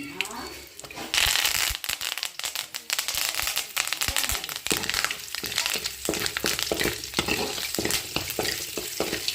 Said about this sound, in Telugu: ఎల్లుల్లిపాయ అల్లం దీంట్లో వేసేసాను.